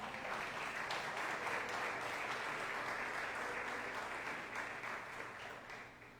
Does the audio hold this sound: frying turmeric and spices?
no